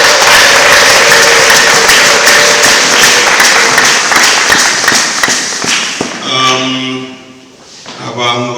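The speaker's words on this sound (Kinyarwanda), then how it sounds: "Amashyi menshi ku Mana yacu" A church congregation claps in close, dense, loud bursts for about six seconds before the clapping thins out into softer tonal sound.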